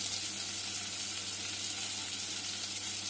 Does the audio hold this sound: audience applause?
no